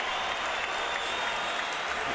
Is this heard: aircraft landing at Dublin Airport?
no